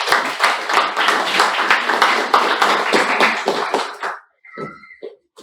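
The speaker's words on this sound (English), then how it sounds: "A huge round of applause." Brisk applause from a Toastmasters club meeting audience, close and loud for about four seconds, then stopping abruptly before a short spoken voice.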